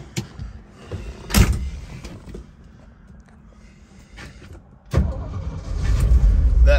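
A 1968 Shelby GT350 convertible door slams shut with a sharp, close thump, followed by rising engine and mechanical rumble, after an earlier clunk and quieter interior rustling.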